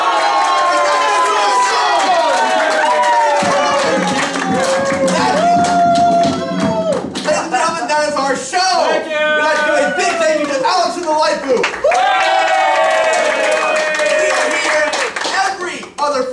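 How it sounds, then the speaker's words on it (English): A theater show audience applauds and cheers loudly and continuously, dense clapping mixed with raised voices and shouts throughout. "they still applaud me!"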